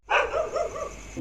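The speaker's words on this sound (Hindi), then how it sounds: "कुत्ते भौंक रहे हैं।" A dog barks several times in quick succession, fairly close and loud, with a short pause between each bark.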